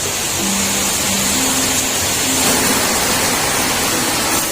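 Steady rain falling outdoors at a rambutan orchard, a dense even hiss filling the whole stretch with faint tonal hums underneath and no talk.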